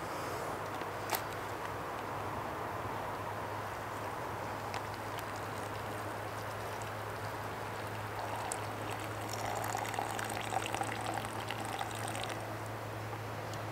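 Water poured from a pot into a bag while preparing an outdoor meal: a steady, soft pouring and trickling stream running throughout at moderate level, over a constant low hum, with no talk.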